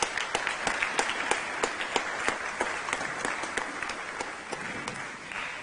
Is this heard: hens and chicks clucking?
no